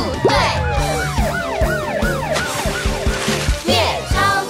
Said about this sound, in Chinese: 把病人送到医院， 救护车